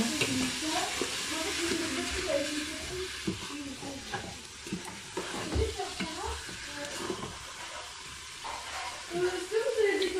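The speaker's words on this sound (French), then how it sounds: "Voilà, on continue de mélanger." Browning beef for boeuf bourguignon is stirred in a pan over low heat, with soft sizzling and intermittent scraping strokes of a cake spatula, fairly quiet and steady.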